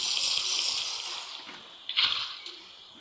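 Water from a bucket sloshes and splashes steadily outdoors, a broad rushing pour that tapers off with a few smaller splashes, close by and without talk.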